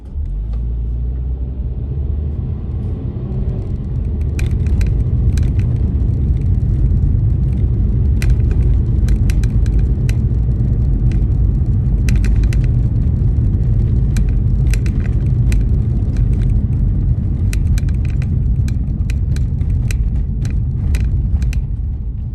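A car driving through city streets on the way home from Seattle, a loud, steady interior engine and road rumble with scattered light rattles and clicks, no talking.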